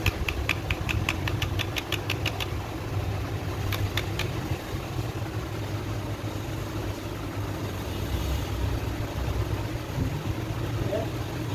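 A Hero Splendor Pro motorcycle engine idles steadily with a dull, persistent knocking rattle from worn crank bearings running underneath, close up, with a few faint metallic ticks early on.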